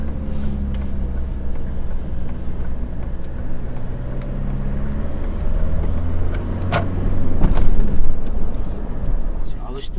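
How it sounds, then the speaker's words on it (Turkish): A SsangYong Korando fitted with an automatic clutch system drives with a steady low engine drone that rises slightly near the end as the gears change, with voices in the cabin. "Şu an hiç debriyajı kullanmadan artık sadece vitesi değiştirerek kullanıyor ustamız."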